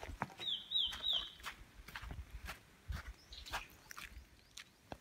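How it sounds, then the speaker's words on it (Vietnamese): Birds call in a quiet forest by a dry stream, with several short chirps and clucking notes rising over soft footsteps and rustling nearby. "Các bạn nghe những tiếng chim không?"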